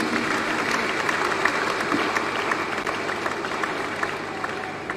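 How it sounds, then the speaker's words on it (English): A church congregation claps hands together, dense and sustained applause filling the space evenly for the whole stretch, moderately loud with no individual voices standing out. "Please, could you clap hands for yourselves?"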